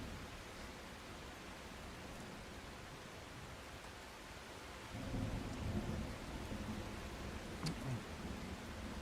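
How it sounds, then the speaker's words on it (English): Steady heavy rain with thunder rumbling in the video game The Last Caretaker, a constant wash of downpour that swells louder about halfway through as a deep roll of thunder builds, with no talking. "And again, I could really do without the excessive rain."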